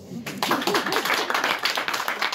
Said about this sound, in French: Vous pouvez vous applaudir également.